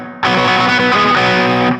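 A distorted electric guitar riff played fast, thick and loud with a heavy effected tone, sounding alone for under two seconds.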